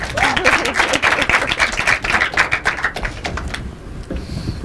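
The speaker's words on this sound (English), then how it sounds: "That's a good place to clap, people." Audience at an inter-collegiate debate competition breaking into dense, steady clapping that fills the space and then thins out toward the end.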